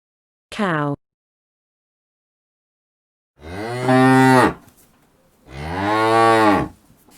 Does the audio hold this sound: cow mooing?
yes